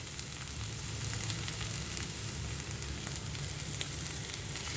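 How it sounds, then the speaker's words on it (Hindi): Chilli sauce hits a hot pan of tempeh with a steady, loud sizzle that holds evenly throughout, with no voices. "ये गई इसके अंदर सॉस।"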